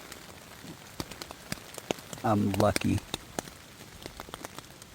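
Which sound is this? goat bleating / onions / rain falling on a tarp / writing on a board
rain falling on a tarp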